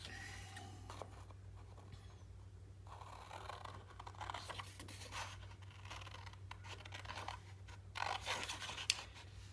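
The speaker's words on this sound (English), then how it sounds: "I'm going to trace and then I'm going to cut that out." Scissors cutting through red cardstock along a traced outline, with steady close scratchy snips and paper scraping over a constant low electrical hum, no talking.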